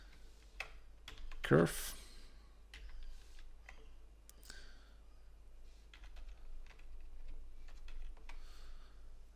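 Someone types on a computer keyboard while working in Revit with Dynamo, producing light, irregular key clicks close by, with a single short spoken word.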